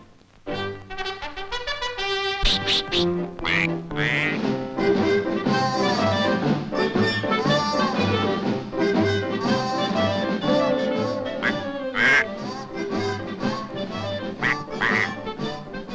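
A cartoon duck quacks repeatedly over a lively orchestral score in an Aesop's fable about a fox and a duck who keeps a flock of prize hens; the quacks sit in the mix with the music throughout.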